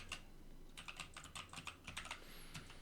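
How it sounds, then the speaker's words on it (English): Password being typed on a computer keyboard: light, quick key clicks in short irregular bursts, close by and quiet, with no talking. "here I'm gonna be typing in here my password"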